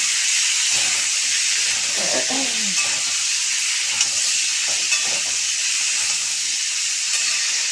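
Potatoes fry in oil in a home kitchen pan, giving a steady bright sizzle and hiss throughout, with a few soft stirring scrapes and clinks breaking through underneath.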